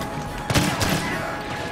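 Blaster cannon fire in the Star Wars Battlefront video game, a couple of sharp bursts landing close together over a steady background wash, fairly loud and brief.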